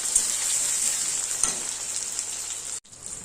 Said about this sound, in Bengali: পেঁয়াজ আর টমেটো কুচি দিয়ে নেড়ে চেড়ে দেবো ভালো করে